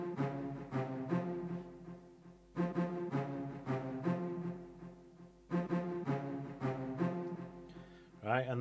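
A string sample in a dark, moody jungle track plays layered sustained chords in three repeating phrases with sharp attacks, moderately quiet over a low bass hum.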